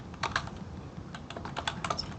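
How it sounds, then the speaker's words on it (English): Irregular clicking of keys on a computer keyboard, picked up by a participant's open microphone during an online talk, with quick bursts of keystrokes at moderate level over faint room noise. "Okay, and I'm hearing some typing,"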